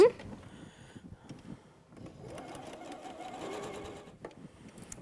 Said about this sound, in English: All right, Erica, I'm going to sew our little half square triangles onto the ends of our bow ties